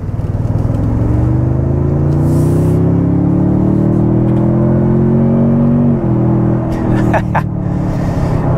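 A 2022 Toyota Tundra TRD Pro accelerates off road, its engine rumble climbing steadily in pitch through a long pull, then easing as it shifts, with light background noise toward the end.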